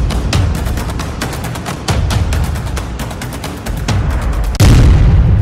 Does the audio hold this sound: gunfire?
yes